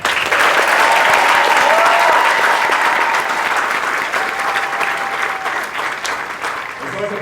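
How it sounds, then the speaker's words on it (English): A large crowd at a US Air Force basic military training graduation ceremony applauds in a long, loud, even burst of clapping that eases slightly after a few seconds, with some voices mixed in. "give another round of applause."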